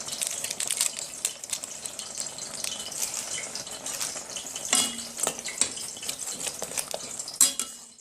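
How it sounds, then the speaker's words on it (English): Noodles being stirred in a cooking pot, with scraping and clinking of a utensil against the pot in an irregular run of soft knocks and rustles, one louder clatter near the end, no talking. "I'm just gonna give this another mix"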